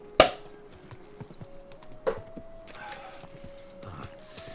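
A horse walks with close hooves clip-clopping in an uneven rhythm, two sharper strikes standing out above softer steps, with no talk over it.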